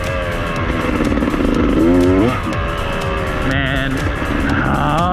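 A Beta motorcycle is ridden up close, its engine revving and surging up and down in pitch, while the rider briefly speaks over the noise.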